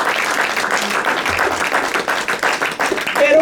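A church congregation claps together in steady, dense applause with scattered voices mixed in, filling the room for several seconds.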